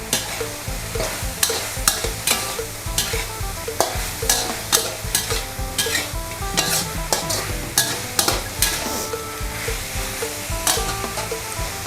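Field rat curry with shredded fingerroot stir-fried in a pan, with a steady sizzle under repeated sharp scrapes and knocks of a spatula against metal in a regular rhythm, close and fairly loud, with no talking.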